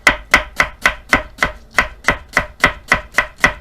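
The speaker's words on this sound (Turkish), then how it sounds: "bir adet kuru soğanımızı ince yemeklik tabir ettiğimiz şekilde ince ince Doğruyoruz" A knife chops an onion steadily on a cutting board, about a dozen crisp, evenly spaced strokes close up, with no talking.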